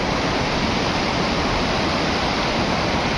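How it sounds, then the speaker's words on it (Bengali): Water from Nuranang Waterfalls rushes and roars in a steady, dense broadband wash, loud and close, without pause or voices. "এটা নুরানাং ওয়াটারফলসের জলটা খুব সুন্দরভাবে যাচ্ছে"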